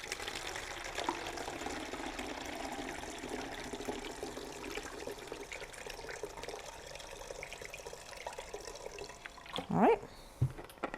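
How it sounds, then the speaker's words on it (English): White vinegar poured into an empty 2-liter bottle, a steady soft liquid pour and gurgle at low level, ending with a couple of louder knocks. "I have an empty 2-liter bottle. I'm going to fill it about 1/3 of the way with vinegar."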